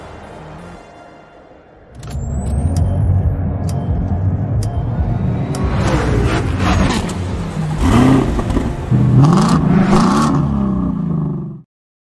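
A Mercedes-AMG GT53's engine, quiet at first, then a loud, close roar that builds into rising revs with harsh peaks before cutting off abruptly.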